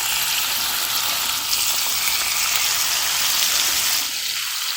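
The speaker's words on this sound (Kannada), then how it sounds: "ಇದಕ್ಕೆ ನಾವು ಮ್ಯಾರಿನೇಟ್ ಮಾಡಿಟ್ಟ ಚಿಕನ್ ಏನಿದೆ ಅದನ್ನು ಸ್ವಲ್ಪ ಆಯಿಲ್ ಹಾಕಿ ಫ್ರೈ ಮಾಡಿ ಅದನ್ನು ಬೇಯಿಸ್ಲಿಕ್ಕೆ ಇಡಬೇಕು" Marinated chicken frying in coconut oil in a pan, a dense, steady close sizzle that crackles without pause throughout.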